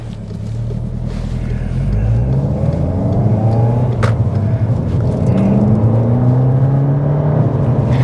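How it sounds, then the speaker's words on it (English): A Volkswagen Scirocco's engine growls steadily as it drives past close by, its pitch rising slightly as it accelerates away. "We'll just let this car go past."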